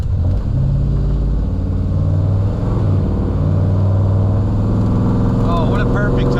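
The engine of a 1957 Chevrolet 210 Wagon rumbles steadily and deeply while the car drives through traffic, loud and close throughout, with a few faint higher chirps near the end.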